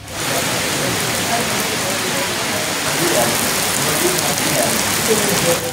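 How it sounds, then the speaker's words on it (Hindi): Heavy rain falling in Punjab, Pakistan, a dense, steady hiss of downpour that is loud and unbroken throughout, with no clear voices. "ननकाना साहब समेत पंजाब के मुख्तलिफ शहरों में बादल खूब बरसे।"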